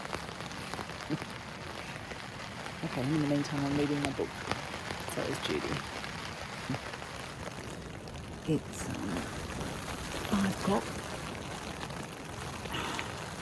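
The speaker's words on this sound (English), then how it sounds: "and it's still raining." Steady rain falls around a tramping-trail campsite in New Zealand, a constant dense hiss with occasional louder drips and patters. A person talks quietly over it.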